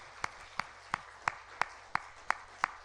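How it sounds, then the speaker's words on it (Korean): Slow, evenly spaced claps from a church congregation welcoming a newlywed couple during Sunday worship, about eight sharp hand claps in a steady rhythm, fairly faint in a quiet room. "우리 두 분 귀한 부부가 한 가정이 되었는데 박수로 축복하고 환영합니다."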